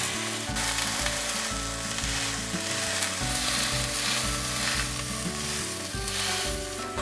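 A dried pollock fillet sizzles skin side down in a pan, a steady crackling fry beneath louder background music, with no voices.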